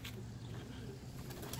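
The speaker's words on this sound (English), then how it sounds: "you can see that the birds are actually living in the roof right there" Pigeons or doves roosting in the roof of an old roadside building give soft, low cooing under steady traffic noise from an active road.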